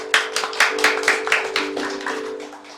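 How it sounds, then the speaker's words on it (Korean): Applause rises from a church congregation as members stand for recognition, a close, steady patter of many hands clapping with a faint sustained organ or keyboard tone beneath. "박수로 격려해 주시기"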